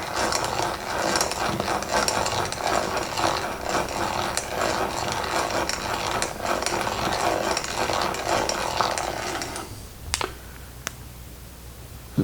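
A hand-cranked boring tool plows into a walnut workpiece, giving a steady, dense scraping and grinding that runs continuously for about ten seconds, then stops, leaving a couple of sharp clicks. No one speaks.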